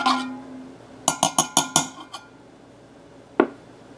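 A spoon clinks sharply against a mug five or six times in quick succession while Italian sweet cream creamer is stirred into coffee, followed by one more lone clink a moment later.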